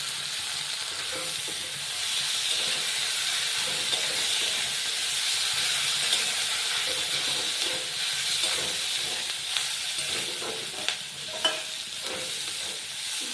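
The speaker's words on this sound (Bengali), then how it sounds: "পেঁয়াজ ভাজা প্রায় হয়ে এসছে" Steady broadband sizzle of onions frying in a pan, with occasional scrapes and clicks of stirring throughout; no talking.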